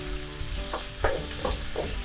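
Onion frying in a pan for pancit, a steady broadband sizzle running throughout with a few brief stirring scrapes and pops layered over it, close and even in level.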